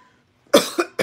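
A man restocking milk in a grocery store coughs, imitated by a voice: three short, harsh coughs close to the microphone, the first strongest, after a moment of near silence.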